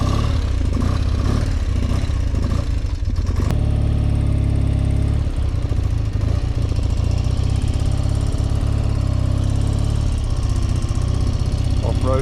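A motorcycle rides over rough, potholed ground near a campsite in Scotland, its engine droning loud and steady and close throughout with bumps and jolts, while a rider talks over it.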